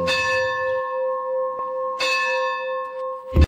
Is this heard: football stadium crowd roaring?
no